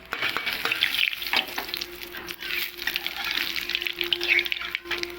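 Black cumin seeds hit hot oil in a curry pan, giving a lively sizzle and crackle with stirring scrapes and a low steady hum underneath, continuous and close.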